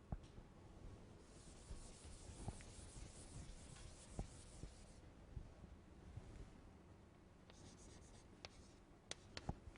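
Chalk or marker scratching and rubbing across a board as a lecturer writes during an engineering lecture on rocket thrust, a steady close scraping with small taps and pauses, no talk.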